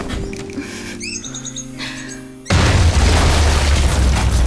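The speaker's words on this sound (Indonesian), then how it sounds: "sebuah ledakan bom menghancurkan pintu rumah yang mereka tinggali" A bomb blast blows open the door of a house, a sudden heavy boom erupting into a sustained, loud roar of rumbling debris after a quieter stretch of tonal music and small chirping sounds.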